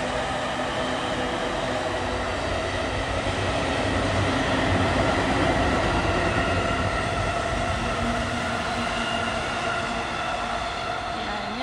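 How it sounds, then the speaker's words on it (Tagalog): A commuter train from Tokyo to Odawara pulling into a Japanese station, a loud continuous rumble and hum of rolling wheels and motors holding steady throughout, with faint squeals. "May train ng parating ulit."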